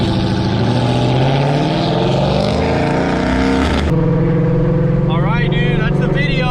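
Loud, rumbling exhaust from a 2019 Dodge Charger ScatPack fitted with CORSA longtube headers, droning steadily with a shift in tone partway through, while voices talk over it.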